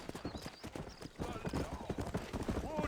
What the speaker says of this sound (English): Giddy up, horse.